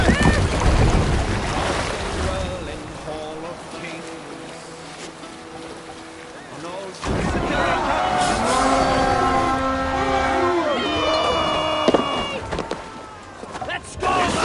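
A sailing ship moves across open water in Assassin's Creed Valhalla, with a constant rush of wind and waves. Voices and tonal game music sit over it, growing fuller in the second half.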